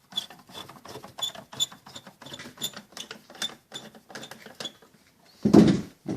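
The breather box ring on a Dodge Ram 1500 throttle body is loosened, producing a fast run of dry, rhythmic ratcheting clicks up close, followed by a short muffled thump near the end.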